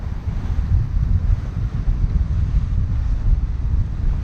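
Strong wind at sea buffets a sailing boat cruising along, a constant low rumbling rush with gusty surges and faint water wash, no speech.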